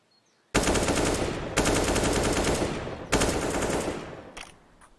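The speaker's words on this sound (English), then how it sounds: "taking Shush down with the wallbang to 60 HP" Counter-Strike match on the Inferno map: three long bursts of rapid automatic gunfire, loud and close, fading into a few faint scattered shots at the end.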